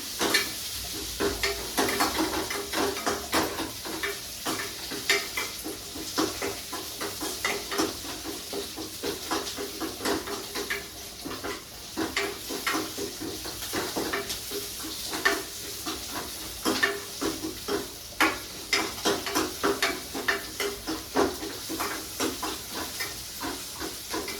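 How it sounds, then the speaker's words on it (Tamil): Curry leaves and urad dal fry in hot oil for a green gram dal recipe, a steady close sizzle and hiss broken by frequent stirring scrapes against the pan. "எல்லாம் போட்டு எண்ணெயில் நல்லா வறுத்துக்கலாங்க."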